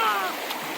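A cold river rushes past a lunch spot on the North Umpqua Trail near Lemolo Lake, a brief, close burst of steady flowing water.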